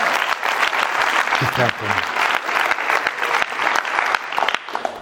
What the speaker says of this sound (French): Et oui, on l'applaudit.